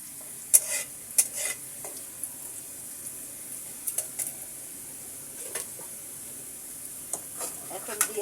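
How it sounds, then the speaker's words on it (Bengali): Chopped onion and garlic frying in a pan, a faint soft sizzle beneath repeated sharp scrapes and clinks of a spatula stirring against the pan at irregular intervals. "পেঁয়াজ এবং রসুন সুন্দর করে ব্রাউন কালার করে আমি ভেজে নিব"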